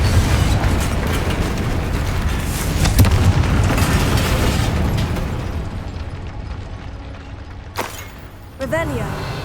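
A Confringo blasting spell erupts in Hogwarts Legacy, a heavy rumbling boom that swells and slowly decays, followed by a sharp magical crack and whooshing tail, with a voice heard in the game.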